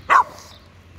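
A caramel-coloured mixed-breed dog gives a single short bark outdoors, fairly close, followed by quiet background.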